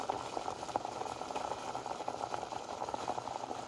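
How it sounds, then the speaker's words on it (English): A pot of water boils hard on high heat with dense bubbling and popping, a continuous close churning that never lets up, with no voices. "So now that it appears to be boiling, and it doesn't appear, it's actually boiling"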